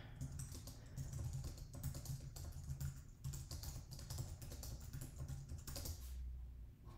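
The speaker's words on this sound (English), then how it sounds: "So go ahead and type something like" Fast, steady typing on a computer keyboard while entering text into a JupyterHub notebook cell: a continuous stream of close, crisp key clicks over a low background hum, running with brief pauses throughout.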